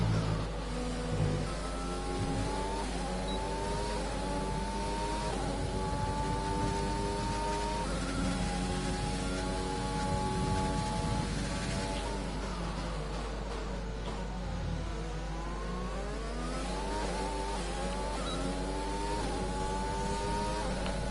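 A Formula 1 car in the F1 2020 racing game on a flying lap at the Austrian Grand Prix, its engine screaming loud and steady as it climbs through the gears, with repeated rising sweeps and brief drops at each upshift.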